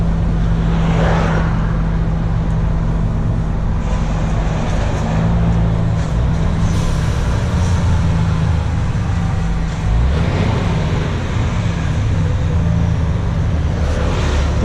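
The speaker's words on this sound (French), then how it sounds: "Donc là j'ai tiré le ralentisseur." A truck rolls along with its retarder engaged, producing a loud, steady low drone and rumble with continuous road noise and no talking.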